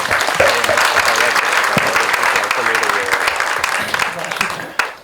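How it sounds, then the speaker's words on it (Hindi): Loud, sustained applause from an audience at a film trailer launch, greeting the movie's writer; dense clapping carries steadily for about five seconds with some voices mixed in, then tapers off at the end. "इनके लिए तो जोरदार तालियां बनती हैं"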